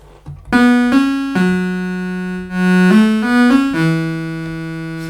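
An Arturia MiniBrute 2 synthesizer plays a bright, buzzy sawtooth wave in a run of sustained notes stepping up and down in pitch, loud and clean with no other sounds.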